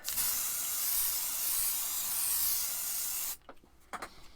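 A steady, loud aerosol hiss of spray sealant from a can runs for about three seconds, then cuts off abruptly, leaving faint rustling and small knocks.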